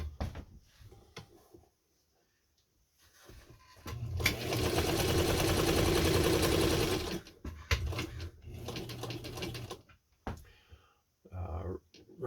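A Belvedere Class 15 sewing machine runs in one continuous stitching burst of about three seconds, a steady close mechanical whir, with clicks and handling noises before and after and brief spoken remarks in between.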